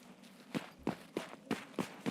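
Footsteps in Escape from Tarkov, six evenly spaced soft steps at a walking pace, faint and slightly distant, with no talking.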